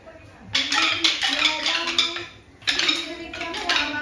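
Kolatam dance sticks strike together in repeated bright wooden clacks, in two bursts separated by a short gap, with singing and voices underneath.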